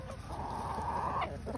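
Chickens, including a red rooster and naked-neck roosters, cluck steadily in a close, continuous chorus while eating greens, with a few louder calls rising near the end.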